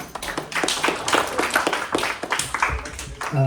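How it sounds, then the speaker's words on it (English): A room full of people claps in a dense, continuous round of applause lasting a few seconds. "Quick round of applause."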